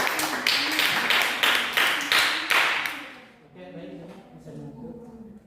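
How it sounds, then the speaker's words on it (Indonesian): A classroom audience claps for a group that has just presented, a few seconds of brisk, close applause that fades out, after which a voice speaks. "kita kasih tepuk tangan untuk kelompok A yang sudah mempresentasikan hasilnya di depan kelas"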